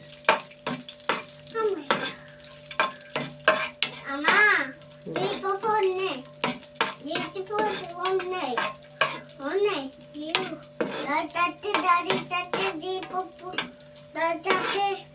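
Raisins fry and get stirred in a pan, a soft sizzle running beneath steady talk from adults and a child.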